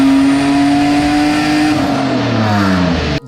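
A loud straight-piped Nissan 350Z roars past close by, its exhaust note rising and then dropping as it flies by, cut off sharply at the end.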